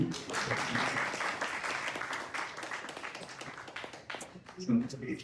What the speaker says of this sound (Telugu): కొంచెం చప్పట్లు గట్టి కొట్టండి